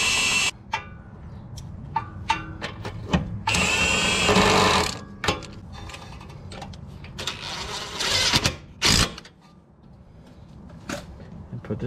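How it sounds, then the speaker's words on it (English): Impact wrench driving bolts while replacing the shocks on a 2014 Honda CR-V, firing in short loud bursts with pauses between, amid clanking tool handling in a garage-like space. "For best work, I will use my wrench"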